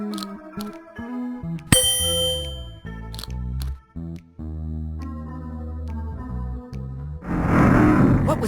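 An engraved metal instrument in a video game rings with bright, sustained metallic dings and clangs over layered tonal game music, followed near the end by a rumbling, roaring noise burst.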